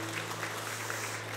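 A church congregation claps during a Sunday worship service, a soft, steady wash of scattered handclaps held at a low level over a faint background hum.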